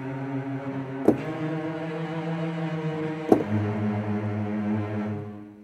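Bowed strings from the Berlin Strings virtual instrument sustain a dense, rapidly alternating trill, a steady layered tone with two brief sharp accents, played alone with no talk.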